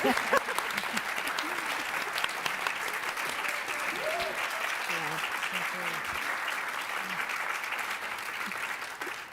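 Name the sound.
audience applause for a lecture panel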